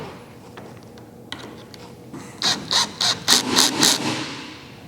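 Screws being tightened with a power driver into a Bonafide SS127 bow plate base, a run of six short, even, loud whirring bursts in quick succession after some quieter clicks and handling.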